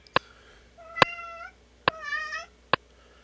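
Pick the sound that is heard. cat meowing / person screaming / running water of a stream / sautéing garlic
cat meowing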